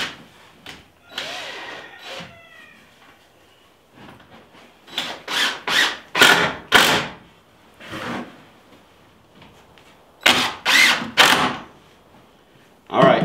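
A wooden board is fitted inside a chicken tractor, giving bursts of knocking, scraping and rubbing that come in loud clustered groups with quieter gaps, and a voice briefly heard early on.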